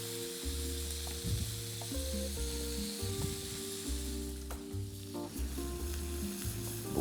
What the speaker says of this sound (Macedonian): Буковката се карамелизира на путер.